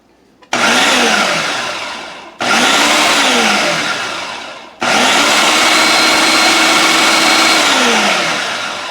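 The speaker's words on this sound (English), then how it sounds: "I'm going to pulse it a few times just to combine the flour and the salt and the baking powder" A food processor pulses flour, salt and baking powder in three loud bursts that start abruptly, two short and one longer. The motor whirs up and holds, then drops to near silence between pulses.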